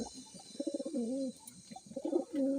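Several pigeons coo together in a loft of racing flyers, soft throaty rolling calls overlapping in close, steady bursts with brief pauses between them.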